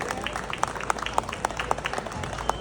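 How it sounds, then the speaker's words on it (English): Sparse applause from a small audience at a golf show, with scattered individual claps standing out over a low murmur of room noise. "They want a big round of applause"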